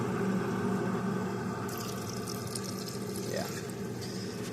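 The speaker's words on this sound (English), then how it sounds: "We should start pumping the water into here." Water pumped through the outlet of a tankless water heater during descaling flows into a container as a steady, dense rushing and pouring, with a brighter splashy layer joining partway through.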